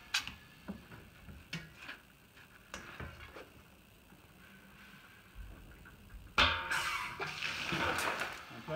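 A 1 litre filling machine runs its pump through strokes, giving a series of sharp mechanical clicks and ticks at irregular spacing, then a louder hissing, whooshing surge near the end, close and clear.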